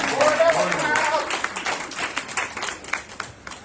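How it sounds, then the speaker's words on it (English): A community-center audience gives a round of applause for the center director, with scattered clapping rising to a light, even patter. A voice speaks over it at the start before the clapping carries on alone. "So give a round of applause for Melvin."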